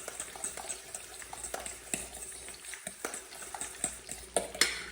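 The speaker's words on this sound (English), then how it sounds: "Mix that all together." Shredded cabbage and carrot slaw being stirred together in a bowl, producing soft, irregular wet clicks and scrapes of a utensil, close and fairly quiet with no talking.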